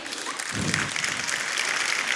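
An audience at a school annual day function applauding, a dense burst of clapping that starts abruptly and continues steadily to the end.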